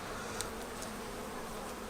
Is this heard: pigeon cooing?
no